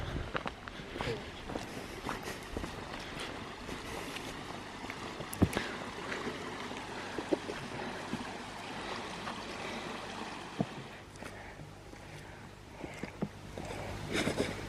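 A mountain river in the Bieszczady hills rushes steadily while hikers wade across it, with close splashes, footsteps on wet stones and scattered voices over a continuous watery wash.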